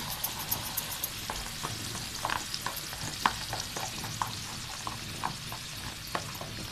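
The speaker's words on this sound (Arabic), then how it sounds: "احنا بنصب عصير الطماطم على البصل" Tomato juice poured onto frying onions in a hot pan sets off a steady sizzle with scattered pops and crackles, close by with no voices.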